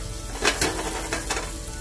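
Portobello mushrooms hit a pan coated with olive oil and sizzle loudly and steadily, with a few sharper crackling bursts as the pieces settle.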